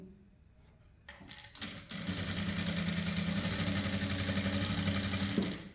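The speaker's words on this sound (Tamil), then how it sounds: "இப்போ இந்த கோடுக்கு மேலே அப்படியே தையல் போட்டுவாங்க" A sewing machine stitches the neckline of a paa neck blouse, starting after about a second and then running steadily and close up at a constant speed until the end.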